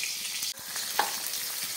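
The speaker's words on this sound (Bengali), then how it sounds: "চলো দেখো আলু ভাজার জন্য তেলে" Potatoes frying in hot oil that was salted beforehand, a close, steady hiss of sizzling with a brief dip and a small spatter pop.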